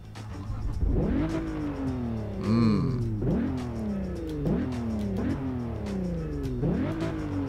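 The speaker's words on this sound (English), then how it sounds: "Yep, that's my Camaro. Let me just get in and let you guys hear how this baby sounds." A Chevrolet Camaro engine in Test Drive Unlimited 2 revs repeatedly, with several rising and falling throttle sweeps over a steady idle, loud and close.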